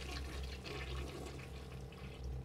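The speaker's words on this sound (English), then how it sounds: "I just watched a toilet flush" A toilet flushing in the video game Bioshock Remastered, a close, steady rushing and gurgling of water with a low rumble, running continuously without pause.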